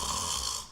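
A voice imitating snoring, one short raspy nasal snore.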